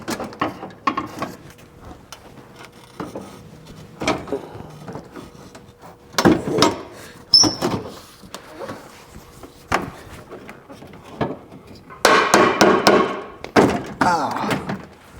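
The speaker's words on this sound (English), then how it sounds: "time to get this bumper on" Bumper panel being fitted onto a BMW E36 M3 under rebuild: scattered hollow plastic knocks, thuds and clacks in irregular bursts, with louder clusters of rapid snaps and bangs near the middle and end, close by in a quiet space.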